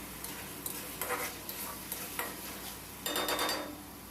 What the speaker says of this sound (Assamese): এইখিনি মই তেতিয়ালৈকে ফ্ৰাই কৰিম যেতিয়ালৈকে মছলাখিনি একদম সম্পূৰ্ণ শুকাই নাযায়।